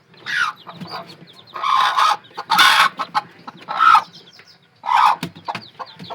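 Several bursts of shrill peeping from seven chicks alternate with low, throaty clucks from their mother hen, close by and fairly loud, with brief pauses between calls.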